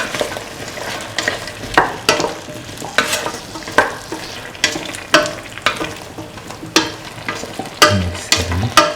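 Beef stew with green chili being stirred in a frying pan: a regular series of scraping strokes about every second, close and distinct, over a light sizzle, with no voices.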